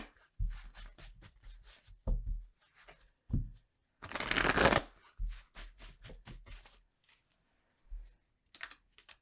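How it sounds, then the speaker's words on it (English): Tarot cards are shuffled by hand in short, close bursts of papery riffling and flicking, with one longer, louder shuffle midway and quiet gaps between the bursts. "So let's pull you some advice cards here."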